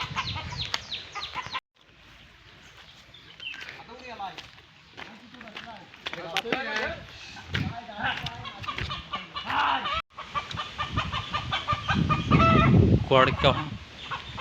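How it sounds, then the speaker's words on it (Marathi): A rooster that has got loose clucks and squawks nearby amid commotion in a Konkan village, with people talking and moving about over most of it as they try to catch it. "आमचा कोंबडा सुटला आहे तो हा बघा"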